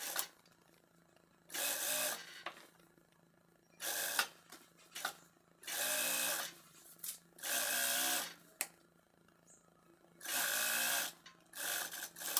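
A sewing machine stitches a seam over stretched elastic on a corset-style top, running in several short whirring bursts separated by quiet pauses, close and alone.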